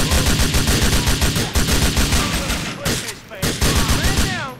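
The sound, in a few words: gunfire in the video game GTA 4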